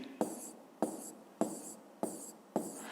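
Pen strokes as a physics formula is written by hand on paper, five short scratchy strokes at an even rhythm about every half second, close and quiet, with no talking.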